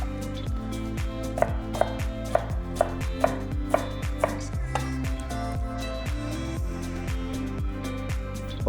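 Leeks are rough-chopped with a knife on a board, giving a run of about eight crisp, evenly spaced chops followed by softer cuts, close up and heard over background music.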